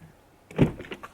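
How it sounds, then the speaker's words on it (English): On a 2020 Audi e-tron, a pop-out door handle moves with a short electric whir and soft mechanical clunk, followed by a couple of faint clicks, close and quiet. "I like the Poppy-outy door handles too"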